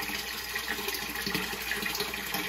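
Water pouring steadily into a gravity-fed saltwater mixing reservoir, fed by a small Maxi-Jet pump: a continuous broadband rush and splash at moderate level, close by, with no voices.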